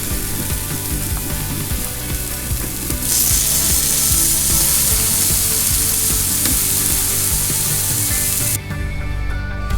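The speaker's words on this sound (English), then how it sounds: "I'll let y'all listen to the sizzle." Loud, steady sizzling of pork chops frying in a pan, crackling continuously up close with scraping clicks mixed in and no talking.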